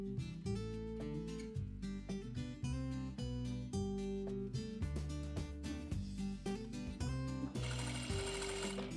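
Sewing machine stitching the front crotch seam of a cowl tulip dhoti, close rhythmic mechanical thumping in quick bursts with short pauses and a brief burst of louder hiss near the end.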